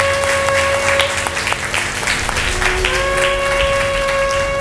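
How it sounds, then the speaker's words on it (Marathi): Church congregation clapping in praise after a prayer, a steady wash of applause running throughout, with a sustained organ or keyboard tone over it. "टाळ्या वाजून प्रभूला धन्यवाद देऊया."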